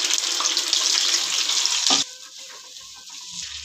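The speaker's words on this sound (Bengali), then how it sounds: "পেঁয়াজ বাটাটা দিয়ে দিচ্ছি।" Onion paste tipped into hot oil for chole, giving a loud, hissing sizzle for about two seconds that then drops to a quieter, crackling fry with faint clatter.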